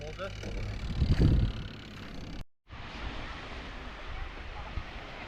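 Steady wash of sea waves with wind buffeting the microphone, a brief louder rumble early on, then an abrupt cut before the surf continues.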